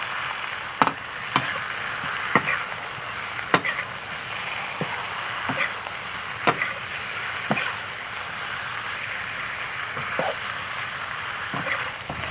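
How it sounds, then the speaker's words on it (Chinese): Pork belly for bazi rou stir-fries in a wok until browned, with a steady low sizzle punctuated by sharp, regularly spaced clanks of the spatula scraping the pan. "先炒上色。"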